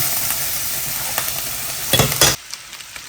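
Vegetables being stirred and fried in a pan after ginger, with steady sizzling throughout and a few louder clatters and stirring bursts near the end before the sound drops away.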